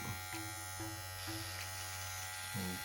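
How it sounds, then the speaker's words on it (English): A steady low electric buzz of a Kemei K-33s hair clipper running at its lower speed, close by, with a faint clack near the end. "let's make a first sound check of this clipper"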